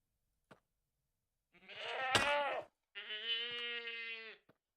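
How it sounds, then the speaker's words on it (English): A goat in the Minecraft modpack FTB StoneBlock 4 gives two long, quavering bleats, with a few faint clicks around them and no talk. "Why is there a quantum goat?"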